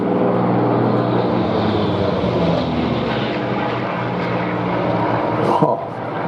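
A Corsair fighter with its big piston engine flies past at an air show, a loud steady propeller drone with a rough, throbbing tone that holds nearly constant before a brief bump near the end.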